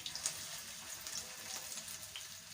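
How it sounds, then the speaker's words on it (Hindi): Kebabs shallow frying in ghee give off a steady close sizzle and crackle that carries evenly throughout, with small spattering pops on top. "इस तरह शैलो फ्राई ही करना है आपने, इसको डीप फ्राई नहीं करना।"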